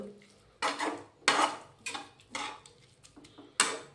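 A spoon stirs milk into carrots in a pan while carrot halwa is being made, giving quiet, rhythmic scraping and clinking strokes separated by short pauses.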